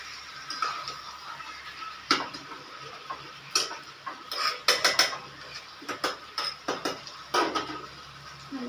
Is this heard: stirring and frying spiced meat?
yes